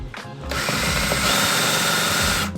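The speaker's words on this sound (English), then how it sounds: "put my drill in reverse," A power drill running in reverse to press a pilot hole into a Ford Transit van during a conversion, whirring loud and close with a steady motor whine after a brief start-up.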